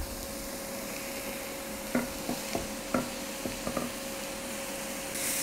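Onion, fennel and aubergine frying in a pan under a soft, steady sizzle, with a handful of sharp scraping knocks from a utensil stirring the vegetables in the middle.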